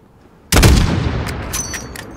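A single loud gunshot from a long-range shot in Call of Duty cracks close by after a quiet moment, then echoes and rumbles away with faint trailing clatter.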